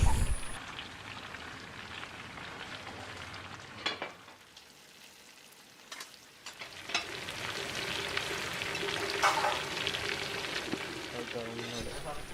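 Continuous crackling sizzle of fish frying in oil, fairly close, with a brief quieter dip midway before the frying noise swells again.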